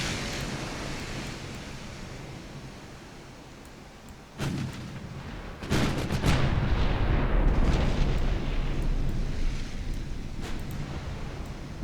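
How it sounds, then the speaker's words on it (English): Naval gun turrets firing in the naval warfare game Ultimate Admiral: Dreadnoughts: loud booming salvos over a constant rumble of wind and sea noise, with a heavy blast near the middle and a sustained roar afterward. "this time we should be able to fire all 10 turrets"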